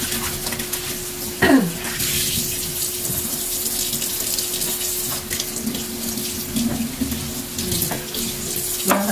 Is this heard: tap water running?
yes